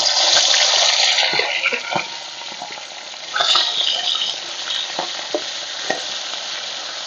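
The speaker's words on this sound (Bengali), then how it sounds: "তেল গরম হয়ে গেছে, মাছের মাথাগুলো ভেজে নেব।" Loud, continuous sizzling of hilsa fish heads frying in hot mustard oil, with occasional scraping and stirring clinks over the crackle.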